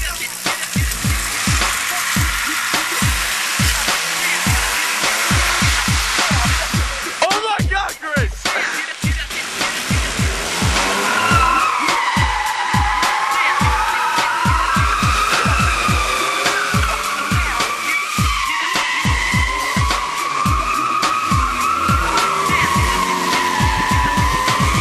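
A car with trays stacked on its back performs stunts, its tires squealing and skidding loudly. The engine revs and pulses throughout, and a long wavering screech follows a brief break partway through.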